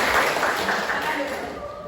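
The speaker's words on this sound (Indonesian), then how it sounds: "Tepuk tangan semuanya." A classroom of vocational school students claps together at once, a dense, loud burst of applause that slowly fades over two seconds.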